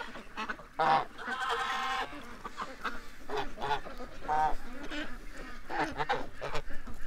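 Geese honk loudly and repeatedly at close range among ducks, harsh overlapping calls in irregular bursts, with some quacking mixed in.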